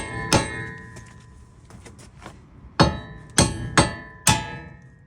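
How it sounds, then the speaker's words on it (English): Sharp metal hammer blows ring out as a wheel stud is hammered out of a Honda, one early strike and then four in quick succession after a pause, close and loud in a quiet space. "I'm going to grab a hammer and then just hammer this out"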